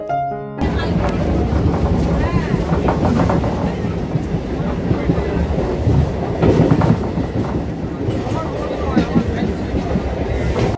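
Inside a moving passenger train on a morning run, a steady loud rumble of wheels and carriage noise fills the whole stretch, with faint rhythmic clatter and occasional voices underneath.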